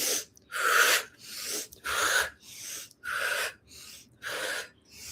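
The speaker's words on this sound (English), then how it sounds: "breathe in." Deep, slow breaths during an internal alchemy breathing exercise, about six loud, close inhales and exhales in a steady rhythm, each a long airy rush separated by brief pauses.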